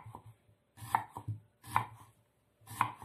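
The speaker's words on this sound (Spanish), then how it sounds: "la cebolla la vamos a filetear" A knife slices through an onion on a cutting board, three crisp close chops in an even rhythm, each with a short crunch and a knock on the board, with quiet gaps between.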